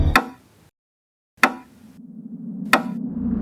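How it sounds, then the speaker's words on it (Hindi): Three sharp, loud knocks on a door land about 1.3 seconds apart, each a single hard rap, with near silence after the first and a low hum rising under the later two. "उस दरवाजे को खटखटाया तो सही"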